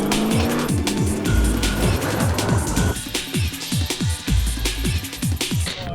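A hand-built 808hp widebody Trans Am and a time-attack E36 M3 race on a no-prep drag strip. Engines scream loud and close through quick successive gear shifts, with each rev climbing sharply before the next shift, and tires chirping.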